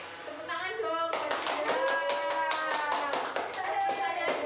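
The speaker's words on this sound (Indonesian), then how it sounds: "Tepuk tangan dong." A group of people clap their hands in a fast, steady burst at a nutrition education session for teenagers, starting suddenly after a brief voice and continuing with voices heard alongside.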